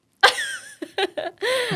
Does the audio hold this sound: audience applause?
no